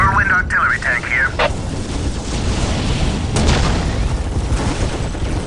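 Whirlwind artillery tank from Dawn of War firing, a dense rumbling boom that rolls on for several seconds with sharper bursts near the start and middle, over a brief voice line.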